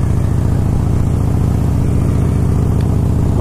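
Harley-Davidson Blackline motorcycle engine while riding, a loud, close, steady low throb with an even rhythmic pulse and no talk.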